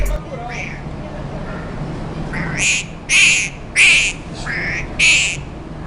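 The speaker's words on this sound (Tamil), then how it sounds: "இந்த பறவை எழுப்பக்கூடிய ஒலி கூட ரொம்பவே வித்தியாசமா இருக்குங்க" A potoo bird gives a series of short, bright calls repeating in uneven bursts, each a rasping, nasal note, heard fairly close over soft background hiss.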